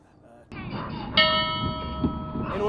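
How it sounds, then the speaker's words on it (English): A ship's bell aboard a naval warship strikes once sharply, its bright tone ringing on and sustaining steadily over a low background rumble and faint voices. "Silence on the bell!"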